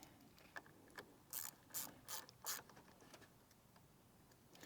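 Ratchet tightening a bolt on a 5th generation Toyota 4Runner, a quick run of clicks followed by four louder ratcheting strokes, close but fairly faint, with no talking.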